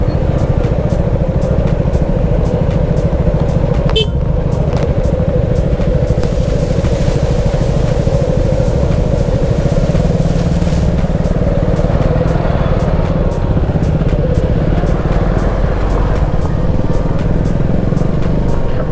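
Dense, steady road traffic rumble in a jam at Bandipur forest on the way to Ooty, car and motorcycle engines running continuously, a constant loud wash of vehicles idling and creeping nearby.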